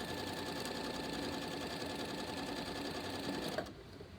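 A sewing machine back stitches a pillowcase seam with a steady, close, rapid mechanical whir that runs for about three and a half seconds before it stops.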